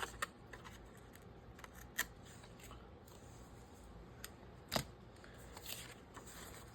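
Scissors trimming the paper lining of a security envelope give a few quiet, crisp snips and rustles at an irregular pace over a steady low room hum.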